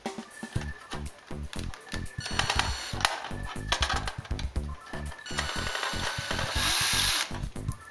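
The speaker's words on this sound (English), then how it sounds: "Now we take the same 1/8 drill bit" A power drill with a 1/8 inch bit whirs steadily through the plastic case of a Turnigy 9XR radio transmitter, close by, with pulsing motor tone and occasional rising whine as the bit bites.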